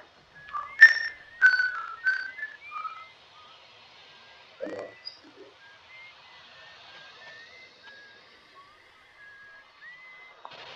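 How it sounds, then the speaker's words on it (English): Clear, melodic whistled notes from the video game Outer Wilds ring out in short phrases, then softer sustained tones drift along quietly with small pauses between them. "The whistling."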